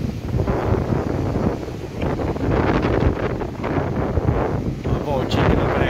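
A strong wind roars over Praia Grande beach in Penha, Santa Catarina, on a rainy overcast day, a loud continuous buffeting gust battering the microphone with waves and rustling faintly beneath.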